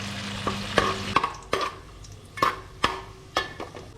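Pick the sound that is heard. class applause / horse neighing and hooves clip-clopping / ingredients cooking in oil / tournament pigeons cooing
ingredients cooking in oil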